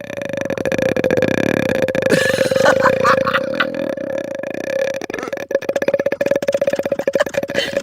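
A long, loud, drawn-out burp rumbles on for several seconds, its pitch wavering and breaking into a rattling stutter toward the end.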